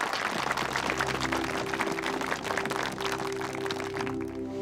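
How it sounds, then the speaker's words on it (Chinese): Audience applause breaks out at a groundbreaking ceremony for a red tourism route project, a dense sustained clapping with a low music hum underneath, steady throughout and with no speech. "下面让我们掌声有请郑家华郑书记讲话"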